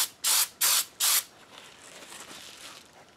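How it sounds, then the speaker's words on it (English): An aerosol spray can gives three short, loud hissing bursts in quick succession as test sprays for a cracked aluminum boat repair, followed by faint quieter hiss. "here's a couple of test sprays"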